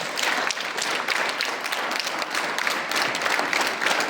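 A group claps steadily throughout a drill exercise, a dense, continuous wash of many hands at an even loudness with no talking over it.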